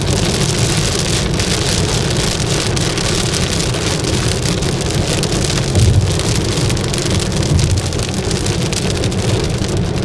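Heavy cloudburst rain in California heard from inside a moving car, a loud, dense, unbroken roar of drops drumming on the vehicle with a low engine hum beneath, steady for the whole stretch and no talking.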